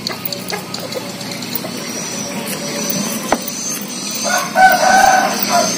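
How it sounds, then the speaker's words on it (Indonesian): A rooster crows loudly and close at a chicken coop, the call rising near the end over scattered clucks and ambient farmyard clatter, with no talking. "Di situ ada kandang ayam."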